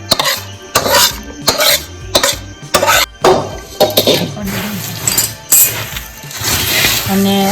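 Jaggery syrup is stirred into puffed rice for mamra ladoo, giving a series of rustling, clinking scrapes of a spoon against a metal vessel in uneven bursts, close and fairly loud.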